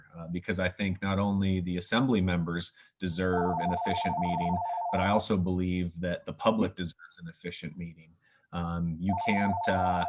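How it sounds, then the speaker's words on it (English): A phone rings at a candidates forum, a repeated steady electronic ring in two bursts that sits under a man's continuous speech. "that's my phone ringing on my end"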